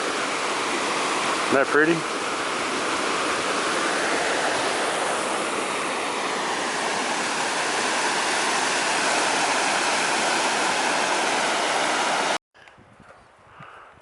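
A mountain stream near McDonald Glacier and Stockdale Creek rushes loudly and steadily for about twelve seconds, a broad close roar of flowing water, with a voice speaking briefly early on before the sound cuts off.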